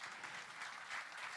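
An audience applauds at a live festival in Cagliari, Sardinia, with dense, steady clapping from a crowd that sounds somewhat distant and soft.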